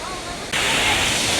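Loud waterfall roaring in an outdoor nature setting at the falls, a steady broadband rush that swells sharply partway through and stays dense and close, with no one speaking over it.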